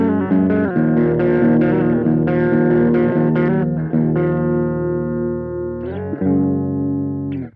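An electric guitar played through a small Donner Cyclops amp with the gain turned all the way up gives a heavily distorted, sustained tone. A few strummed chords ring out and fade, loud and close, with no voice.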